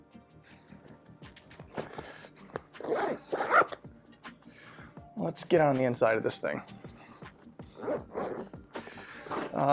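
A backpack zipper is drawn open in several rasping pulls, close up, while someone talks and a dog barks briefly in the background.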